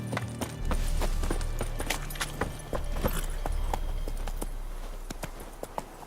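Hooves of Roach, the horse in The Witcher 3, clip-clopping in a quick, irregular trot, close and distinct sharp strikes over a low rumbling bed with faint jingling tack.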